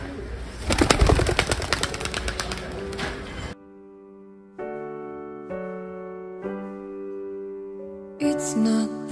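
Pigeons coo and flutter as a large flock of about 1,787 birds is released outdoors, with a burst of wing noise early on, then cooing calls near and clear toward the end.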